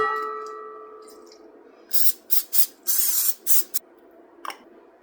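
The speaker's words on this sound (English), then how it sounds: "I'm gonna spray these down just with like some olive oil spray" Several short hissing bursts of olive oil cooking spray fire in quick succession, close and crisp, coating a donut pan, followed by one brief final spritz.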